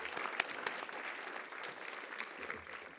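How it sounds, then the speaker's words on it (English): An audience applauds a team leader at a Long Beach key-to-the-city presentation, with steady moderate clapping from a roomful of people and a few sharper claps standing out. "let's give a big round of applause to our fearless leader and the team, Jeff Williams"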